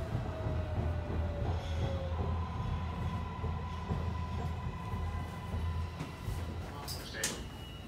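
A MARTA Gold Line metro train running in Atlanta with a low rumbling drone, rhythmic wheel clatter and a faint whine, then brief high squeals of wheels near the end.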